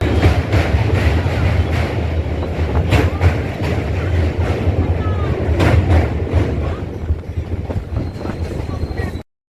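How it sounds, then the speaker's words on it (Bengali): A commuter train pulling into platform one at Domjur Road station near Howrah, a loud continuous rumble with rattling wheel clatter and occasional sharp metallic clanks, fading abruptly at the end. "প্ল্যাটফর্ম নম্বর এক নম্বরেতে ট্রেনটা এসে দাঁড়ালো"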